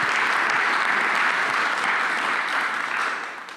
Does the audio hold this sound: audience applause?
yes